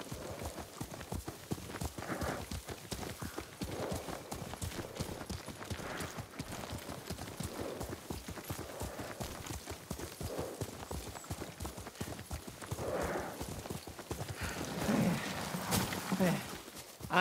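Horse hooves clip-clop steadily while riding in the video game Ghost of Tsushima. The beat is fast and even, at moderate volume, and it runs throughout under quiet ambience and occasional soft voices.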